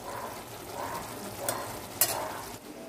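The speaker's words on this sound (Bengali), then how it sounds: "মাছটা পেঁয়াজ দিয়ে করলাম ফ্রেন্ডস।" Pomfret fish fries with onion in a pan, making a close, even sizzle with stirring scrapes. Two sharp clinks of a utensil cut through it near the end.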